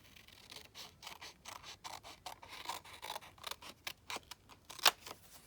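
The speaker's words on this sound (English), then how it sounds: "So I'm going to cut." Scissors snipping through cardstock while making a tri-fold Christmas card, a close series of quiet crisp cuts and paper rustles in an uneven rhythm, with one sharper snip near the end and no talk.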